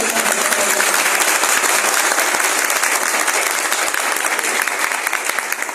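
Loud, sustained applause from a large audience at an Ambedkar Jayanti gathering in Akbarpur, dense clapping filling the whole stretch at steady strength without a break.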